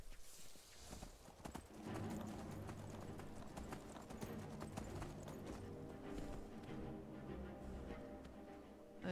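Horse hooves clip-clop in a fast, steady rhythm while riding in modded Skyrim, a video game, over a continuous game soundtrack.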